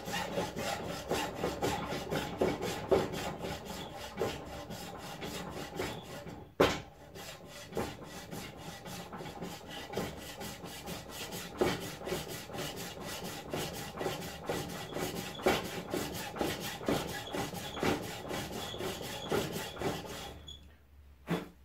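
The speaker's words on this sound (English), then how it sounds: "let's hacksaw away at this thing" Hacksaw cutting through the casing of a lead acid battery, steady rasping back-and-forth strokes running continuously and close, with one brief pause midway and a short stop near the end.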